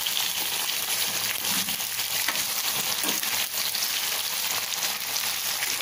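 Raw banana slices frying in a pan on a low-medium flame give a loud, continuous hiss and crackle of hot oil, close up and unbroken, with no voices.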